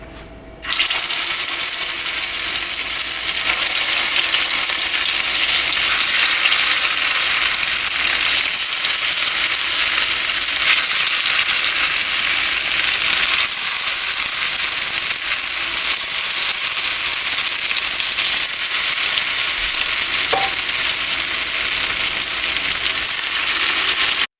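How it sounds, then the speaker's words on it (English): Steady, loud sizzling of chicken shami kebabs frying in a hot pan, a constant crackling hiss that runs without pause, with no talking. "It's been 2 minutes since the new batch has been put on the frying pan"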